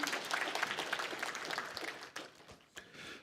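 A church congregation gives a short round of applause to welcome new members during a Sunday service, a dense clapping that thins out and fades after a couple of seconds.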